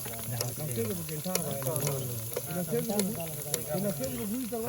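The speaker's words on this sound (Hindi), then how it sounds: "माशाल्लाह मछली कितनी ज़बरदस्त फ्राई हो चुकी है।" Fish caught from a village dam sizzles and crackles steadily in a frying pan, a continuous close hiss with small pops, while someone speaks over it throughout.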